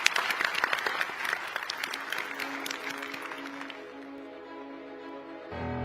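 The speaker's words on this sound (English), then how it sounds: "Let's give a big round of applause for our panellists." A conference audience applauds the panellists at a technology event, a full, steady burst of clapping that gradually thins and fades, with a low hum remaining at the end.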